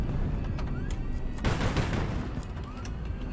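Gunfire using special ammunition in the naval combat game HighFleet, a rapid rattling fusillade with a loud burst of shots near the middle over a steady engine-like rumble.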